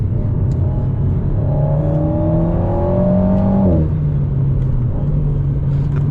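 An Alpine A110 GT in race mode with manual shifting climbs through the revs with a rising engine note, then a sharp gear change drops the pitch abruptly, followed by a steady droning hum from inside the cabin.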